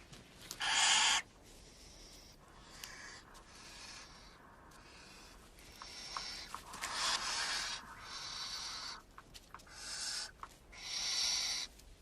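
Barn owl chicks call with harsh, raspy hissing screeches, repeated in bursts of about a second over twelve seconds, close but fairly soft, with no talk.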